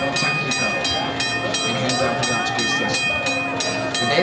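A train runs near a station, a steady mechanical churn with regular rhythmic beats about twice a second and a sustained tonal whine, moderately loud throughout.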